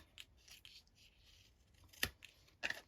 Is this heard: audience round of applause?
no